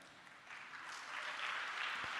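Applause from a church congregation during a sermon, a dense steady patter of many hands that builds slightly louder toward the end, heard from a distance.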